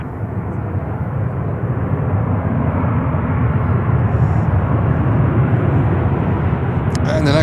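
An American Airlines airliner at Charlotte airport roars steadily and loudly throughout, a continuous broad engine rumble with no pauses.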